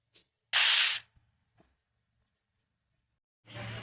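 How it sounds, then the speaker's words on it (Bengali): Fish heads fry in oil for a greens dish, heard as two short bursts of loud hissing sizzle separated by a long stretch of quiet. "বাকি মাথাগুলো আমি এভাবে ভেজে নেব"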